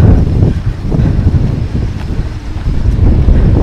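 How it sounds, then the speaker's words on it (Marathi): Strong wind on a mountain trek to Kalsubai peak, Maharashtra's highest summit, roaring loud and close as it buffets the microphone in continuous gusts without a break. "वाऱ्याचा आवाज बघा कसा येतो."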